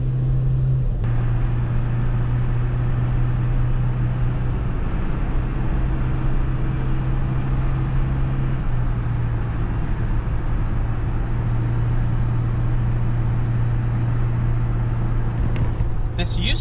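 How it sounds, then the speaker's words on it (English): A Nissan Be-1 Pike car cruises at speed down a highway, a steady engine drone and road roar running loud and continuous throughout, with a faint brief clatter near the end. "I'm gonna drive this down the highway just for a nice speed run"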